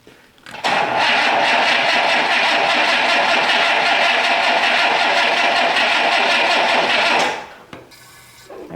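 The engine of an abandoned 1962 AMC Rambler cranks over with a loud, rough, churning starter sound that runs continuously for about six and a half seconds. It then stops abruptly, leaving quieter rattles and no talking.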